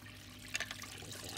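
Small Disney Pixar Cars toy vehicle sloshing through bath water, giving soft close splashes and trickles with a brief burst of dripping midway, no voices.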